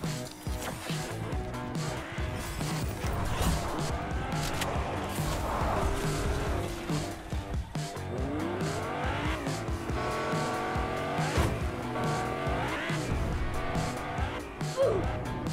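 A video game car drives with a steady engine drone and repeated squealing skids over continuous game audio, loud and close throughout.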